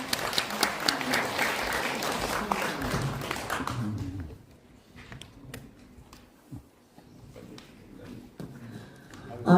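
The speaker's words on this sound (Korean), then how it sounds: "여러분 큰 박수로 맞이해 주시기 바라겠습니다." At an academic seminar in Korea, an audience gives a burst of loud applause for about four seconds, then it drops off to a few faint, scattered claps and quiet room noise.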